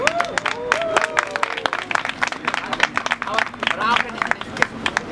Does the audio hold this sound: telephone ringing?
no